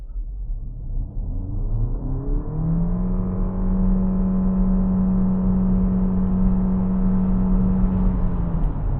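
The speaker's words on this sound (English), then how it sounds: "So I'm going to floor it." A 2026 Geely Starray EM-i accelerates hard at full throttle at night, a smooth rising electric-hybrid whir and drivetrain hum building steadily over road rumble, heard from inside the car without talk.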